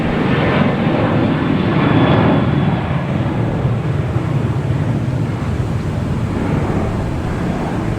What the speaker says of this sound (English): There's American Airlines taking off, heading to Charlotte.